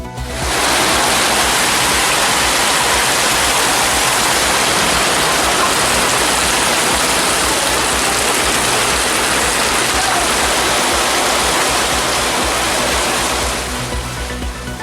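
Widespread rain in Udhagamandalam (Ooty), Tamil Nadu, a steady, dense hiss of falling water that stays loud and even throughout, with no voices.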